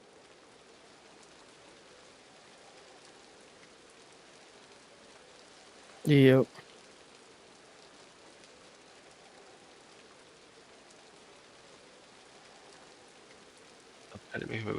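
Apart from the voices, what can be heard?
rain in a video game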